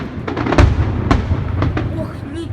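A fireworks display with trailing bursts bangs and crackles in a rapid series of sharp reports, loud and close, with a rumbling boom among them.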